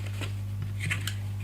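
Scissors snipping paper, a few quick crisp cuts close by over a steady low hum.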